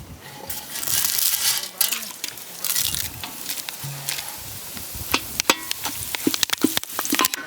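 Cinnamon, cloves and cardamom frying in cold-pressed gingelly oil for a Punjabi chicken dish make a steady close sizzle, broken by sharp clicks and stirring scrapes, with a voice talking over it.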